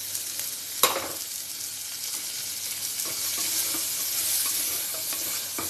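Onion hits garlic in a pan for banana stem soup and frying starts straight away. One sharp clatter as it goes in is followed by a steady close sizzle with occasional stirring scrapes. No one speaks.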